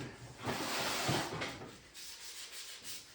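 Old front-engine dragster parts are scrubbed clean with a soft, continuous scrubbing rasp, strongest early on, then easing into quieter, uneven strokes.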